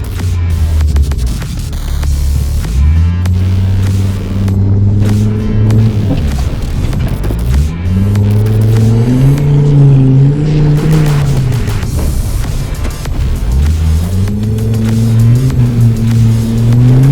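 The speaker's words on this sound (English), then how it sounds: "Wanted to get a good rev in, you know?" A modified Volvo off-road car engine revving hard and close, several loud sweeping rises and drops in pitch as the throttle is blipped, with rough mechanical rattle underneath.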